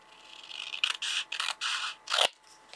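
Scissors cut through card in a few short, crisp snips and rustles, close and quiet, ending with a sharp final clip.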